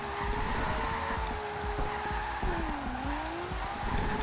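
A Nissan Skyline R32 drift build in the racing game Forza Horizon 2 slides with sustained tire squeal over a droning engine, the pitch dipping and rising as the car drifts.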